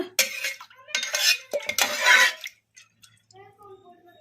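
A spoon scrapes and clinks inside a pressure cooker pot while toor dal is mixed with two cups of water, turmeric powder and a spoon of oil, in several close bursts of stirring; it then fades to quiet with a faint voice.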